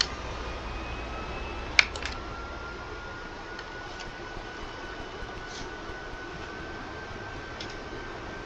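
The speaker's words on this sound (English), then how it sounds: "And now we got the engine turning on." AV-8B Harrier jet engine starting up in the cockpit, a steady broadband whine and rumble with a rising tone, a sharp click near the start followed by faint intermittent ticks.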